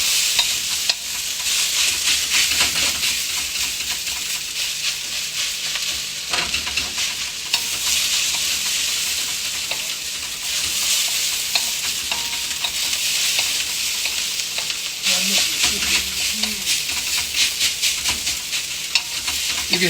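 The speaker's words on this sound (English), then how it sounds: "Just keep it stir fry." Rice stir-fried in a wok by a chef making fried rice, a continuous bright sizzle with repeated scraping and tossing strokes, loud and close, with no voices.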